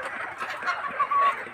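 Deshi chickens at a local market give a short burst of soft, close clucking, with a few brief calls over a quiet background.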